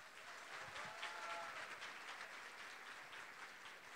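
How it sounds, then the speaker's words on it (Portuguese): Conference audience applauding a speaker at a 2018 legal congress lecture, a steady wash of many hands clapping throughout, moderately distant and fairly even in level with no talk over it. "peço uma salva de palmas, muita força para Gelvani Moraes"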